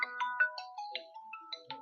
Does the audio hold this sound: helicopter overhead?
no